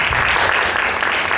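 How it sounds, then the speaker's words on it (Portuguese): A seminar audience at a cultural event claps in a brief, even burst of dense applause, loud and continuous with no break. "salve de palmas"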